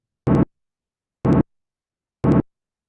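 Brain's frequency following response to the spoken syllable "da", played back as three brief, identical buzzy bursts at a steady one-second rhythm, fairly loud and clean with silence between them and no voices.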